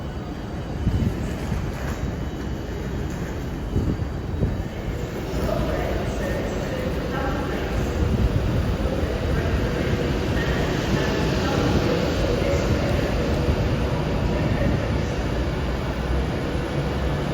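A train for Edinburgh at Carlisle station gives a steady, loud rumble that builds slightly and holds throughout, with a person talking over parts of it.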